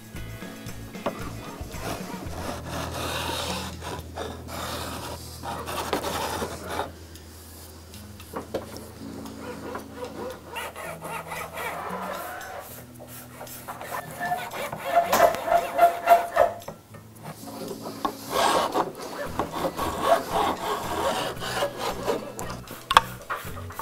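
Steady rubbing and rasping of sandpaper on wood during a custom electric guitar build, continuous scraping strokes that grow louder and busier toward the end, close in a workshop.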